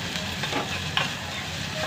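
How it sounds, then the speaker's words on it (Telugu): Onions frying in a pan for a ginger-piece tamarind curry, a steady hiss and sizzle with small crackles and pops, close and continuous, with no voices. "ఆనియన్స్ ఇవి కూడా వేయించుకుందామండి."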